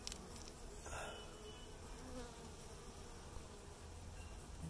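Honey bees buzzing around a hive brood box, a dense insect drone close at hand with individual bees swelling past, steady throughout and with no speech over it.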